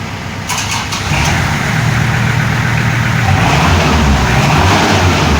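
A Kubota tractor engine cranks and fires up loud and close, settling within a second into a steady, rumbling idle that continues to the end.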